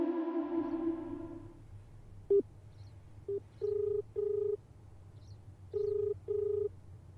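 Telephone dialing tones and short ringback beeps sound on a call: a few brief keypad tones, then paired steady beeps repeating at even intervals over a low hum, with no speech.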